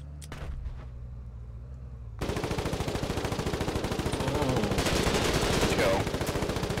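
Gunfire in the war video game Foxhole begins after a quieter opening as rapid, sustained automatic bursts that stay loud and continuous until the end.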